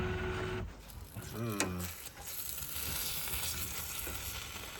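Frozen spinach and ricotta cannelloni cooks on a boat's stovetop, giving a faint, steady sizzle and hiss while a person briefly speaks nearby.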